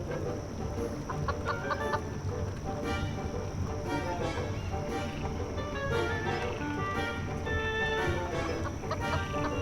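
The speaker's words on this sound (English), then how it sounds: "it attracted the attention of the curious chicken" A chicken in the video game Foolish Mortals clucks repeatedly and busily while pecking at corn scattered on a path, its calls steady over a dense, continuous game soundscape.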